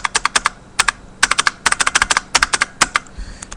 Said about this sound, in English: the best keyboard I've ever owned. IBM Model M.